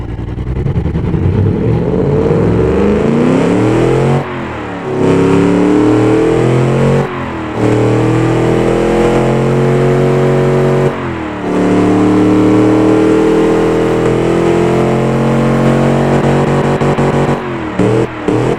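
A massive car engine in BeamNG fires up and revs hard repeatedly, loud rising and falling roars broken by short cuts between pulls, close and dominant throughout.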